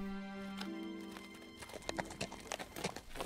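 Horse hoofbeats as a sound effect in a spoken folk horror tale, starting after a held tone and becoming a rapid, uneven galloping patter, moderately faint and without voices.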